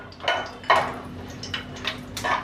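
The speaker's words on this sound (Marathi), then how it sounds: "आता आपण हे जे खडे मसाले आहेत ना ते सर्व घालून घ्यायचे." Whole spices drop into hot homemade ghee in a pan, giving several quick clinks and rattles with brief sizzling bursts and a faint steady hum behind them.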